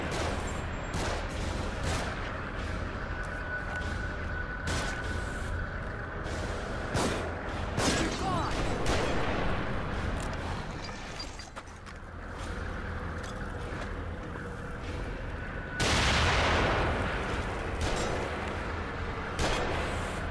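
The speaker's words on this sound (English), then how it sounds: "They're shooting from above." Gunfire from enemies shooting from above in the survival horror game The Evil Within, a dense stream of shots and impacts layered over a continuous loud game soundscape, with a sharper burst near the end.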